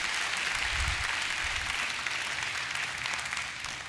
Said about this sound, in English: Let's clap the hand for the Lord.